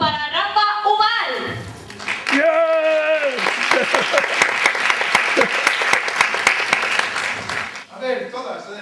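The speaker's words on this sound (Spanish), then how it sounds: "un fuerte aplauso" Audience applause for a comedian at a Spanish stand-up show, a dense burst of clapping lasting several seconds, with a host's voice and shouts over it at the start and end.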